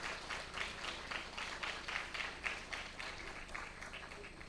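Large audience applauding at a national facility dedication ceremony during a foundation day celebration, steady dense clapping from a crowd that continues evenly throughout, moderately distant.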